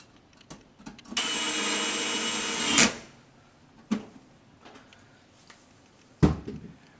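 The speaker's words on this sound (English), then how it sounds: "Always keep your drill at the lowest torque setting." A power drill driving screws whirs for about two seconds, then stops, followed by a few sharp clicks and knocks nearby, during repair of a split-system air conditioner.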